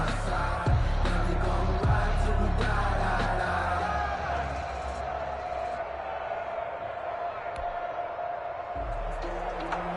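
Stadium crowd noise at a Jacksonville Jaguars versus Houston Texans game in an EA Sports football video game, a steady loud roar with scattered yells through the whole stretch.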